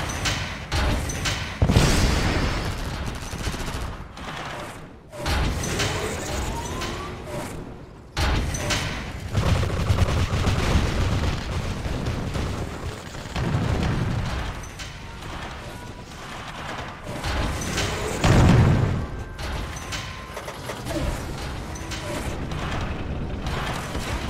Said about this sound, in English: Airstrike confirmed.